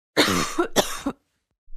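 Two quick, harsh coughs come close together at close range, followed by silence.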